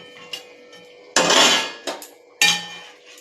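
Metal utensils clink and clatter against a curry pot as fried shol fish goes into potato curry, with three loud bursts of rattling and scraping between quieter gaps.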